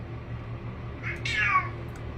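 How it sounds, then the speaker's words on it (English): A cat gives a single drawn-out meow that rises and then falls, close and clear over a low steady hum, with quiet room sound before and after. "Cats are amazing."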